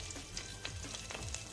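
Ginger, green chillies and curry leaves frying in ghee for sago khichdi, a steady soft sizzle with faint crackles and a few stirring scrapes, close and continuous without talk.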